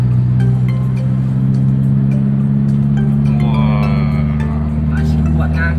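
Inside a 2009 Daihatsu Xenia with Blackcore tuning, pulling at low speed in fifth gear: a loud, steady low engine drone that holds its pitch throughout, while people talk over it.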